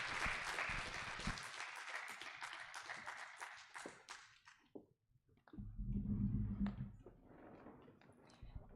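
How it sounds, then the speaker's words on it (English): A lecture panel audience applauds for several seconds with dense, even clapping that fades out, before a lower burst of clapping and crowd noise picks up again. "A round of applause to all of them."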